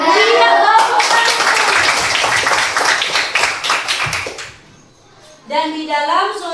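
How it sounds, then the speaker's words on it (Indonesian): Children clap together in a classroom during an Islamic religious lesson, a lively burst of clapping mixed with voices that fades into a brief lull before children's speech resumes. "tepuk tangan"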